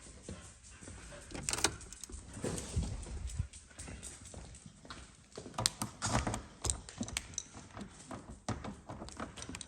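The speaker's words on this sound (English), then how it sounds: "I have got 2 or 3 keys for the car." Small metal Porsche 924 car keys jangle and clink in irregular bursts, close up, with light handling noise between the rattles and no talking.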